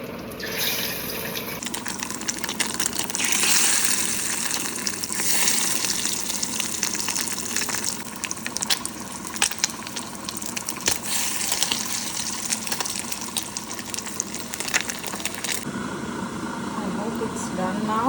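Fish roe frying in hot mustard oil gives a steady, loud sizzling hiss that runs almost unbroken through the clip, with a voice talking over the frying.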